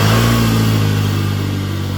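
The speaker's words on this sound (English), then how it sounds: "I need to make sure that the car will start" A Volkswagen Passat B7 with a 1.8T engine and a misfire runs loudly and close up, a steady low drone that eases slightly over two seconds with no voices.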